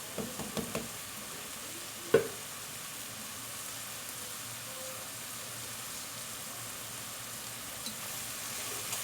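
Onion with black pepper sautés quietly in a pan, a soft continuous sizzle with a few utensil knocks early on and one sharp clack, fairly faint and steady.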